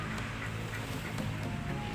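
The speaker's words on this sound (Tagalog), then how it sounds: "Tapos yan, may mga bibe oh." Ducks quack in a noisy group at a botanical garden in Las Piñas City, with overlapping calls against a dense outdoor background.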